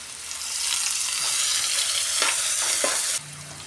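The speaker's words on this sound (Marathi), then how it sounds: "आता याच्यामध्ये कांदा टाकणार आहोत। परतून घ्यायचा आहे।" Onion sautéing in a hot pan for a breakfast upma, a steady close sizzle with a few stirring scrapes, the frying dropping off abruptly near the end.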